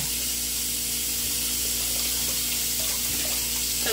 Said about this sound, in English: I'm just going to run some cold water into the pot just to kind of break the asparagus down